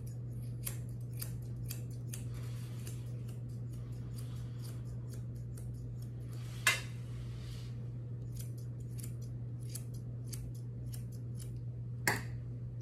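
Grooming scissors trimming a Lhasa Apso's coat give quick, crisp snips in irregular bursts, close and quiet, over a steady low electrical hum, with a couple of louder clicks and no talking.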